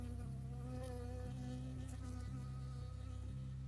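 A bee buzzes in the video game Firewatch, a steady, close, continuous drone with a wavering pitch that holds for the whole stretch, with no talking over it.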